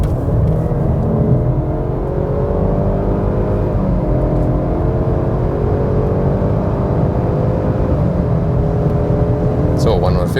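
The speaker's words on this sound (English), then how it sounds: "So let's start at 80 kilometers an hour and then hammer it." Jaguar XE R-Sport 2018 with the Ingenium 25t four-cylinder engine and AWD pulls hard from 80 km/h, a loud steady in-cabin engine drone with rising harmonic tones that climb and shift over about ten seconds.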